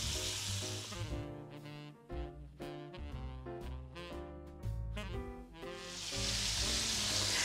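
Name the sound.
chicken frying in a pan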